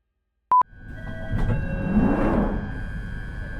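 A London Underground Northern Line train at Tooting Bec station, with a short two-tone chime followed by a steady rising rumble and hum of the train that holds fairly loud to the end.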